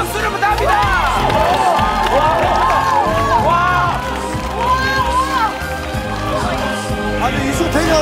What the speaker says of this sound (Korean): 박수를 부탁합니다!